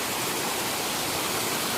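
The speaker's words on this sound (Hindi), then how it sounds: "पूरे रास्ते भर में भी कुछ इस प्रकार से पानी ही पानी भाई" Flood water running along a public hill road, a steady broadband rushing wash like a stream or small waterfall, close and continuous with no voices.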